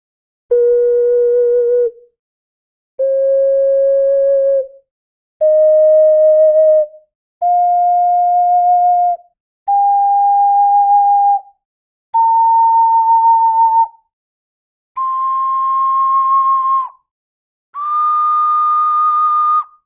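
A Lord of the Rings single-chamber ocarina plays eight separate sustained notes in a slow rising series, each cleanly held for about two seconds with short silences between, produced by cross-fingering.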